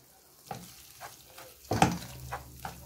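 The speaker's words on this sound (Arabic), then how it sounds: "تسمع صوت خروشة اهي مع التقليب المستمر" Taro leaves frying in a pan while being stirred, a few soft crackles and scrapes spaced about half a second apart with one louder clatter in the middle, quiet and close.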